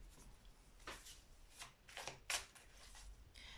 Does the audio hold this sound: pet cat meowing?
no